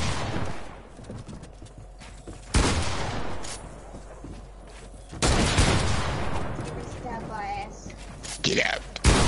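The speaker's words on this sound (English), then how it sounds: "I'm trying to shoot him." Video game gunfire: loud, sharp bursts of shots stand out against a backdrop of horse hooves clip-clopping and a horse whinnying, and a voice speaks between the shots.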